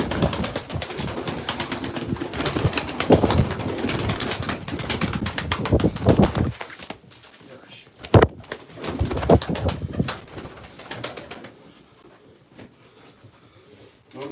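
Pigeons coo steadily up close, a dense flock with wing flutters and rustling, the calls thinning out toward the end.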